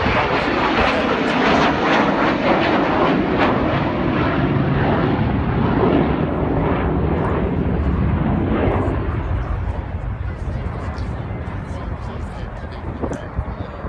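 An Avro Vulcan bomber jet flies at the 2015 Throckmorton Air Show, giving a loud, steady, broadband roar that holds strong and then slowly fades as it passes.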